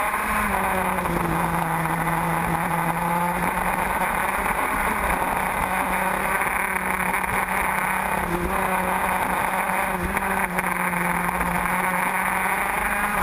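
Shifter kart engines race around a track at night, a continuous loud, high-revving buzz from several karts that holds steady throughout.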